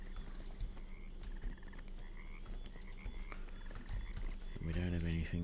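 Several frogs croak in short repeated bursts in a Pathfinder: Kingmaker game scene, with a louder, closer cluster of croaks near the end; fairly quiet and layered over soft game ambience.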